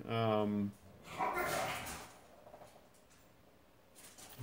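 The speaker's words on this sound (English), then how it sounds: "Dogs." Dogs bark in the background of a home live stream: a short, loud yelp-like burst at the start, then muffled talking over quiet room noise.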